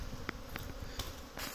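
Honeybees buzz around the entrance of a hive, a dense, continuous close-up hum with individual insects flitting past and brief louder passes near the microphone.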